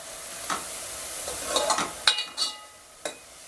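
Chopped onions frying in oil until browned, a soft sizzle under intermittent scraping stirs and a few sharp utensil clinks against the pan, close and moderately quiet.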